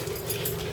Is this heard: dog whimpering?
yes